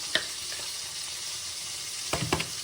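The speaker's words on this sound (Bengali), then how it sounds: "এটা এখন আমি ভালো করে একটু ভেজে নিই।" Mashed pointed gourd and potato peel being fried in a pan with black cumin and salt, giving a steady sizzle broken by a few stirring scrapes near the start and end.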